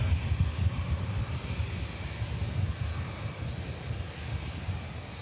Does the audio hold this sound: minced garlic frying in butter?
no